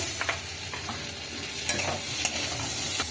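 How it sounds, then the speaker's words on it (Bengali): Onions frying in a pan with a constant sizzle, punctuated by occasional scrapes and stirring clicks, close up and without talk. "এখানে পেঁয়াজটা ভাজা হবে"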